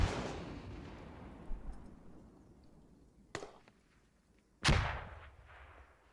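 A grenade launcher shot rings out in a tactical shooter video game, a sharp broadband blast near the end that decays quickly, following a fainter earlier bang and a rumbling tail of fading gunfire.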